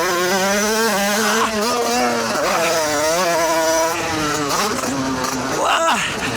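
A Peugeot 50cc motorcycle tuned to about 30 horsepower revs hard and loud, its engine note sweeping up and dropping as the rider downshifts into a downhill bend, continuous and close with someone talking over it.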